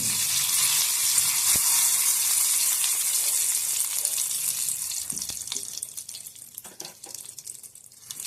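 Mustard seeds and curry leaves crackle and sizzle in hot oil, a steady bright hiss that runs close and loud, then thins into scattered pops toward the end.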